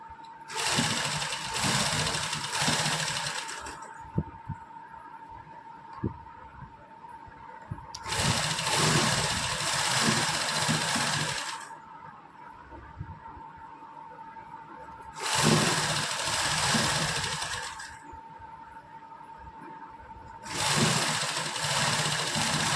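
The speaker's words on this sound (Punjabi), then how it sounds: "ਆਪਾਂ ਲੈਸ ਦੇ ਕਿਨਾਰੇ ਕਿਨਾਰੇ ਤੇ ਸਿਲਾਈ ਲਗਾਉਣੀ ਆ" A domestic sewing machine stitches lace along the edges of a suit, running in four steady whirring bursts separated by short quiet pauses, close and fairly loud.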